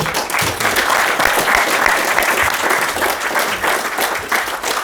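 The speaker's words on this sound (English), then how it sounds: "Another round of applause." A loud, close round of applause from an audience after a conference talk at a Welsh cartography event, many hands clapping in a thick, even wash that holds steady throughout.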